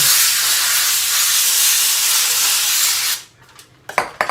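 Cooking spray hisses onto aluminum foil in a kitchen in one steady three-second burst, loud and close, followed by faint handling clatter.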